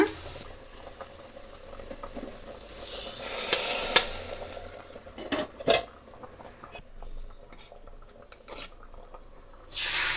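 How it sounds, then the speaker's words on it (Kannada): Hot tempering hisses and sizzles as it is poured into a pot of vegetable and sprouted-legume sambar, with scraping and a clink of utensils; the sizzle flares again at the end. "ಆಯಿತು ಒಗ್ಗರಣೆ. ಈಗ ನಾವು ಪಾತ್ರೆಗೆ ಹಾಕೋಣ."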